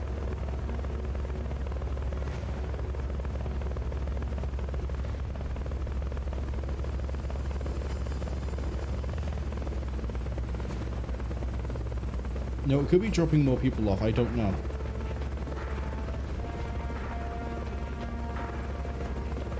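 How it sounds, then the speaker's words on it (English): In Metal Gear Solid: Peace Walker, a helicopter's rotor drones as a low, constant hum throughout, with someone talking briefly over it partway through. "I know I can capture the helicopter."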